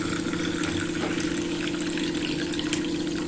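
A small amount of water poured for washing rice, the rinse water being collected to make a homemade soil-enrichment culture; a continuous close gushing pour with a faint hum underneath.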